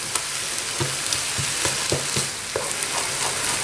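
Rice vermicelli filling with beaten egg sizzles and fries in a pan over the heat while a utensil stirs it constantly, giving steady crackling with repeated soft scraping strokes close up, no voices.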